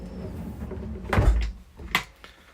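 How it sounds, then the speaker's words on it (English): A mid drawer is lifted out in the galley of a Fairline Targa 50 Open motor yacht, giving two close wooden clunks about a second apart with quiet room tone between. "Mid drawer lifts out, and then you've got your stainless steel cutlery drawer behind that there."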